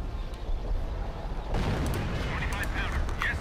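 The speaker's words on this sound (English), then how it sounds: "Creeping barrage on my markers." An artillery creeping barrage in the real-time strategy game Company of Heroes: Opposing Fronts rumbles with dense, overlapping distant blasts that swell louder midway, while a voice talks over it.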